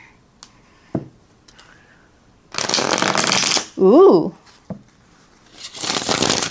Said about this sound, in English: that's pretty good for a riffle shuffle, for something that feels like it has like a glossy finish